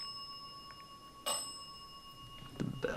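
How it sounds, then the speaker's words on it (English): Bell chimes during a ghost hunt at the Sallie House, a sharp ring followed later by a couple of fainter strikes over a steady background hum. "The bell's going off a little bit more constantly."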